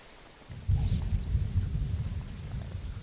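Thunder rolls in with steady rain in the zoo-building video game Planet Zoo, a sudden low rumble swelling up and churning on under the patter, with no talk.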